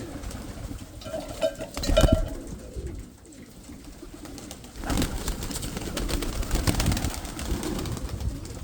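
Pigeons kept in a loft cooing in low, throaty repeated phrases, fairly close, with rustling and shuffling sounds between the calls and a quieter stretch in the middle.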